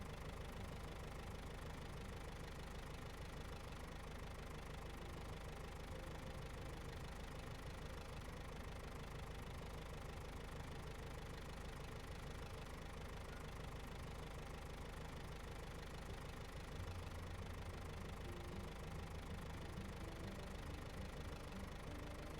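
A diesel truck engine in SnowRunner rumbles and idles with a steady, continuous low knocking drone that holds the same level throughout, with no talking over it.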